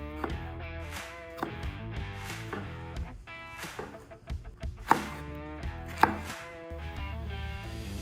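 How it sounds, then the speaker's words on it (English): A knife rough-chops seared peppers, jalapeños, onions and garlic on a board in quick, steady knocks, close and clear, over faint background music. "I'm going to take everything out of the pan and give it a rough chop before it goes into the blender."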